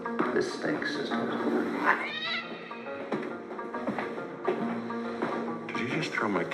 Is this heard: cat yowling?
yes